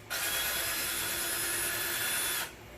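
A power tool whirs steadily and loudly for over two seconds while removing parts from a Sovol SV01 3D printer, starting abruptly and cutting off cleanly, with no talking.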